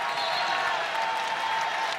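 A crowd at a Minnesota Gophers basketball game against Ohio State cheers and applauds Mara Braun's three-pointer in a steady, loud roar of clapping and voices that lasts the whole moment.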